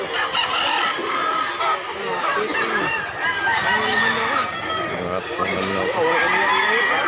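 Many fighting roosters at a crowded gamefowl market in Mantalungon, Barili, Cebu crow and cluck over one another in a dense, continuous chorus, with people talking underneath.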